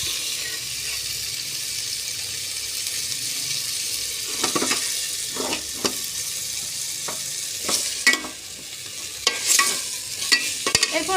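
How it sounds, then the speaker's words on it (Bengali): Steady frying hiss of fish curry with intermittent scrapes and clacks of a spoon stirring in a pan, close by and moderately loud. "এটা আমি সুন্দর করে নাড়াচাড়া করে রান্না করে নিচ্ছি"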